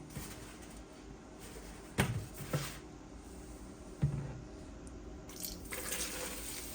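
Oxtail being washed by hand in water with white vinegar after a baking soda soak: a few splashy sloshes and drips over a steady low watery background, close by with no talking.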